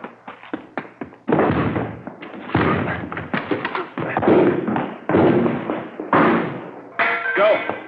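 Police forcing doors during a raid in a radio crime drama: a rapid series of heavy, booming thuds and crashes, some closely spaced, with brief pauses between the blows.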